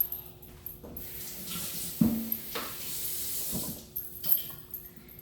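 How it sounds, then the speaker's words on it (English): Tap water runs into a sink to rinse chopped fruit and vegetables for parrot food, a hissing splashing stream that swells and dips with a few brief clatters, fairly close, with no talking. "Let's rinse it off."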